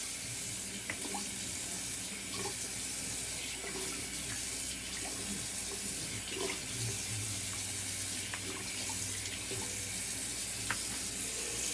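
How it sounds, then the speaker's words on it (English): Cold tap water runs steadily into a sink for a rinse during a wet shave, a constant close splashing hiss that holds for the whole stretch with a few small drips and clatters. "Very cold water rinse."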